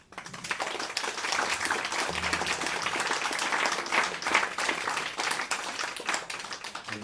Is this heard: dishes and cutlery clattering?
no